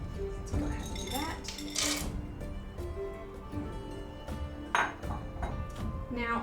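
Hot chocolate base heated in a pot has chocolate stirred in, giving scattered metallic clinks and pings of utensil against the pot beneath near continuous talking.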